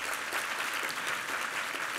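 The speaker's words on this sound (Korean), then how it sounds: "격려 박수 한번 부탁합니다." A church congregation at a Sunday worship service applauds a women's vocal ensemble and its conductor, a thick, even wash of clapping that stays steady and full throughout.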